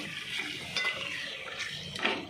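Chicken and masala stirred in a frying pan, with soft scraping of a spoon against the metal over a low sizzle, in quiet irregular strokes close by.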